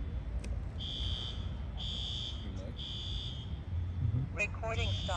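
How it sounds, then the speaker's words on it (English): An alarm sounds in repeated high, steady electronic tones with short gaps, over constant low background rumble, with a brief burst of other electronic beeping near the end. "The alarm went off, guys."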